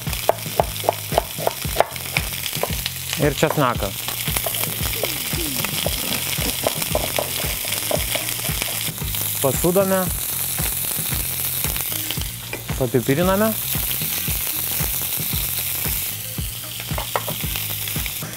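Chicken drumsticks browning on both sides in a pan, a steady close sizzle running throughout with a few utensil clicks and a person talking over it.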